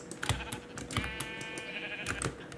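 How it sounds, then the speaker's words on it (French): Sheep bleat in a Minecraft game, a short wavering electronic-sounding cry arriving mid-clip over faint clicking, plus a few brief taps and thumps around it, with no speech. "il arrive pile au bon moment, les moutons"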